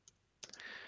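Keys click sharply on a computer keyboard as a Linux command is typed: an isolated tap, then a quick cluster of clicks, close but faint.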